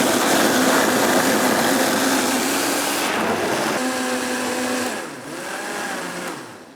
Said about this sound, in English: All right, blending on high speed.